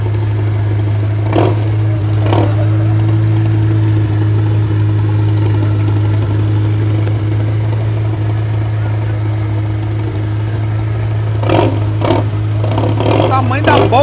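Volkswagen Beetles pulling out of a car meet in Curitiba: a steady, droning engine idle close by, with a few short revving bursts near the start and again toward the end, while people talk over it.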